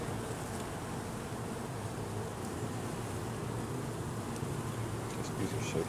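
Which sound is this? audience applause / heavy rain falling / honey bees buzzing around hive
honey bees buzzing around hive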